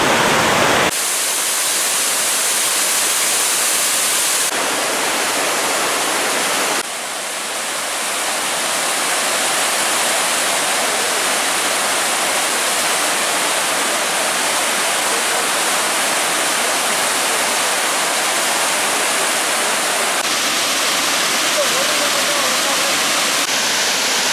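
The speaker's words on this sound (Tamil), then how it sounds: "இந்த மலைகளிலிருந்து 5 அருவி உற்பத்தியாகி கீழே இறங்கி வருது" A waterfall, one of five falls coming down from the hills, pours into the Pandiyar Punnampuzha river in a loud, steady broadband rush that continues unbroken from start to finish.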